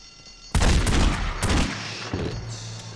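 Gunfire in The Godfather video game erupts after a half-second of quiet into dense, overlapping shots and booms that stay loud and continuous for the rest of the stretch, with no talking.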